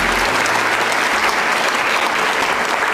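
A crowd gives loud, steady applause in a lecture setting, an even wash of many hands clapping throughout with no break.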